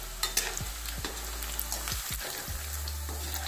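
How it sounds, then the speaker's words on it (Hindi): Paneer cubes lightly frying in hot oil for matar paneer, a steady close sizzle with a few sharp scraping strokes from a spatula spaced through it, no voices. "ज्यादा फ्राई नहीं करेंगे, बस इतना ही हल्का सा फ्राई करेंगे"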